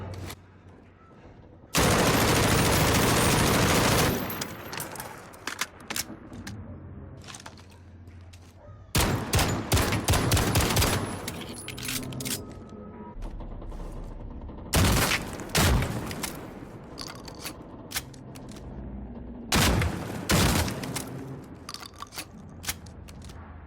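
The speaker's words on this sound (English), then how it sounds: "The gunshot sound effects are outstanding." Gunfire from Call of Duty: Modern Warfare, including shotguns and automatic rifles: loud bursts of rapid shots and heavy single blasts, separated by quieter gaps, with no talking.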